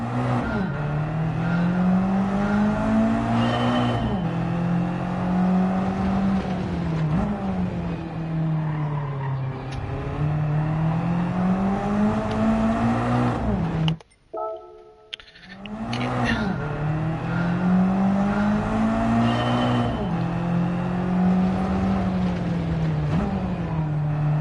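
A Mazda Spirit Racing 12R engine in Gran Turismo 7 rises and falls through gear changes, a loud buzzing drone climbing in pitch repeatedly, with a brief drop near the middle before pulling hard again.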